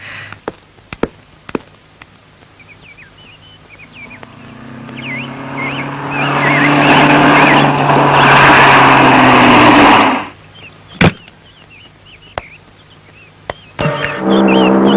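Old rattling car engine running, rising to a loud sustained roar for several seconds, then cutting off, with sharp clunks and thumps before and after.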